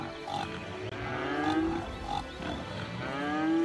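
Cows on a farm in the city-building game Cities: Skylines moo several times, drawn-out low calls overlapping one another against a busy ambient game background.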